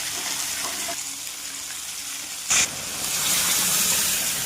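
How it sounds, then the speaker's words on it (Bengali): Heated water is poured into a pan of sautéed curry on the stove: a short splashing burst, then a steady, rushing hiss and bubbling as the liquid meets the hot pan. "জলটা দিয়ে দিয়েছি"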